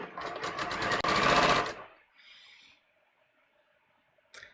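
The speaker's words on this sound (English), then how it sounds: "I'm just going to sew right off the end" A sewing machine stitches rapidly along a collar edge in one continuous burst of fast, even clatter, then stops, leaving quiet handling noises and a faint click at the end.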